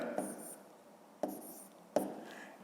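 A pen writes numbers in a notebook in three short bursts of scratching, each starting with a light tap of the tip on paper, quiet and close with pauses between.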